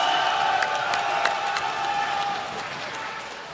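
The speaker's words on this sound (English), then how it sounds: "Well, once again, your applause for Rina Belachen." A tournament audience applauds, a dense steady wash of clapping that gradually fades, with crowd noise and a few sharp whoops near the start.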